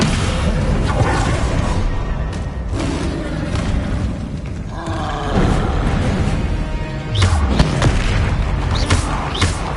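Descendo spell impacts in Hogwarts Legacy, heavy booming thuds and crashes with whooshing tails, several loud hits in succession amid dense game effects.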